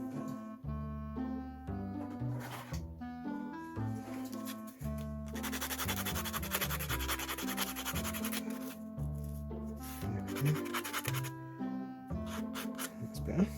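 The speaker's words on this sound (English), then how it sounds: "Actually, I've got a sanding block." A sanding block rubs back and forth on a plastic part of a Mego Star Trek Klingon figure during repair. The steady scratchy strokes are close and build to a sustained stretch, with background music playing throughout.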